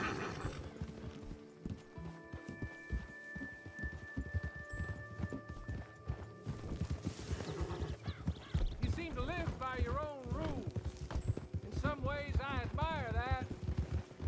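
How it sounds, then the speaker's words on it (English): Horse hooves clip-clop steadily in Red Dead Redemption 2, with a horse whinnying and neighing, while voices speak and music plays over the hoofbeats. "Get on your horse."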